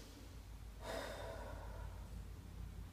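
One deep breath is drawn and slowly released during a prenatal yoga stretch, a soft airy rush in the middle of an otherwise quiet moment.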